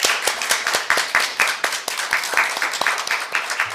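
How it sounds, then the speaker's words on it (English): Audience at a moderated panel discussion session applauding, a dense steady patter of many hands clapping throughout, fairly close and unbroken, with no voices over it. "please give a big round of applause to our moderator, panelists, and discussants"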